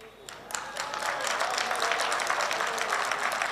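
Audience applause at a political speech, swelling from a quiet start into a dense, sustained wash of clapping that holds steady and fills the space.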